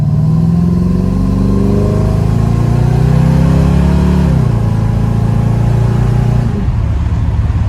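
A Datsun 280Z with a small-block Chevy V8 swap pulls hard through the gears, loud and close, engine note rising steadily, dropping at a smooth shift near the midpoint, climbing again, then falling at a second shift.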